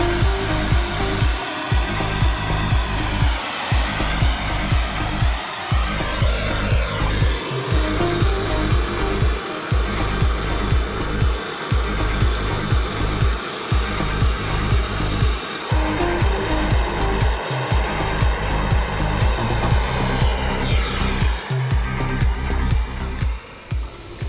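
Gas torch heating steel rods red hot for brazing while installing a long range fuel tank, a steady loud roaring hiss that runs continuously throughout without talk.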